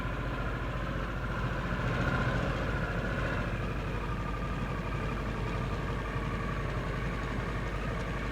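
A 2023 Harley-Davidson Sportster S sits idling nearby, a steady low rumbling engine drone with a slight throttle swell partway through.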